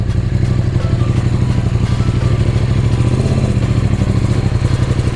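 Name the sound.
KTM motorcycle engine starting with a little throttle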